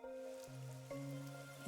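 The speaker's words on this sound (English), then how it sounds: "And this is acid rain?" Acid rain falling in the video game Master Detective Archives: Rain Code, a soft steady patter of rain on surfaces beneath sustained tonal game music.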